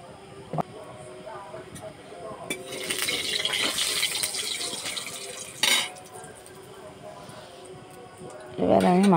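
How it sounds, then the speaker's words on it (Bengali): Cooking oil poured into a pan in a home kitchen, heard as a trickling liquid pour mid-clip with clinks of cookware, while a person talks throughout. "তেল দিয়ে দেবো"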